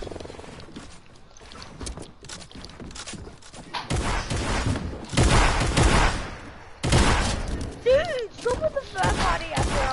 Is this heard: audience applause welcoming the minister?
no